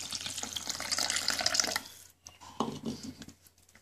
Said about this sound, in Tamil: இந்த புளி தண்ணியை இதில் விட்டுணும்.